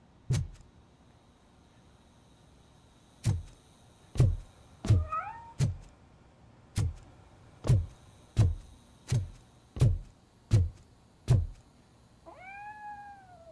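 A cat in the game RoboCop: Rogue City meows a few times among a long series of evenly spaced heavy thuds, like footsteps, with a longer meow near the end.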